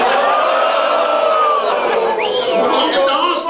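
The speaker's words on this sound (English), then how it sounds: "why are you all booing?" A live audience boos loudly and continuously, a dense crowd roar with scattered shouts and whoops throughout.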